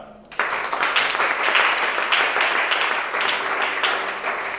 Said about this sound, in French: Acclame le Shaddai.